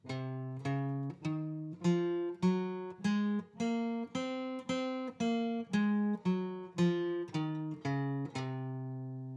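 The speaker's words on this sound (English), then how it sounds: "And the C Locrian scale sounds like this." C Locrian scale picked note by note on guitar, ascending then descending at a steady pace, each tone ringing briefly and distinctly, with the last note left to decay.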